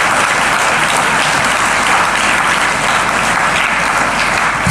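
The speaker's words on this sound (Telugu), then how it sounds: "గట్టిగా చప్పట్లు కొట్టండి ఒకసారి" A seated audience at a motivational talk by actor K V Pradeep breaks into loud, dense applause, many hands clapping together in a steady roar that holds for several seconds.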